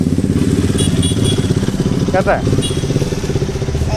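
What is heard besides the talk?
motorcycle engine running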